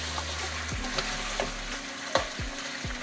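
Chicken sautéing in a pan for chicken qorma, a steady sizzle broken by several quick spoon scrapes and stirs, close and alone without talk.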